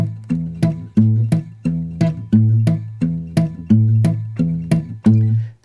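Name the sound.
guitar played with the bare flesh of the thumb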